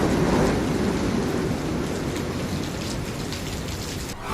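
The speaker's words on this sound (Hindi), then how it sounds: "ओडिशा, पश्चिम बंगाल के कई हिस्सों में बारिश और तेज हवाएं भी शुरू हो गई हैं।" Heavy rain and strong wind from Cyclone Yaas along the Odisha and West Bengal coast: a dense, steady roar of downpour drumming on surfaces, close and loud throughout, with no voices.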